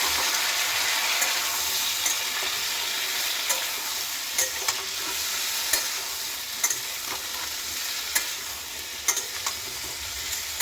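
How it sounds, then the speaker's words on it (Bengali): Turmeric-coated raw mango fries in a hot spice tempering, giving a steady bright sizzle while a spoon stirs through it with repeated scraping clicks against the pan, close and continuous. "ফোড়নটা এখন রেডি হয়ে গেছে আর দিয়ে দিচ্ছি হলুদ মাখানো আমটা। দিয়ে নিয়ে নাড়াচাড়া করব।"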